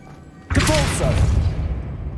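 A Depulso force spell cast in Hogwarts Legacy: a sudden loud whooshing blast that bursts in and holds as a broad rushing roar, with short whistling swoops in the middle before it slowly fades.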